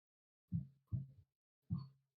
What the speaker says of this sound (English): hear your kid's heartbeat?